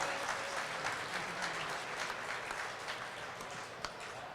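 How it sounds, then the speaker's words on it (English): A crowd at a Food City race night event in Knoxville applauds steadily, a dense, sustained wash of clapping from many hands filling the room throughout. "we want everybody out there to give him a great round of applause"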